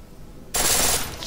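Pistol in full-auto mode from Deus Ex: Mankind Divided, a loud, dense burst of rapid gunfire that starts abruptly after a quiet moment and runs continuously to the end.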